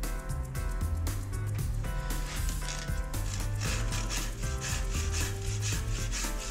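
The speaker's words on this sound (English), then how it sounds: "we cut our mitre using our Studhawk 45" A Studhawk 45 mitre saw cuts through a length of timber architrave in a continuous, even grinding and rasping stroke, close and loud, with a faint rhythmic pulsing throughout and no voices.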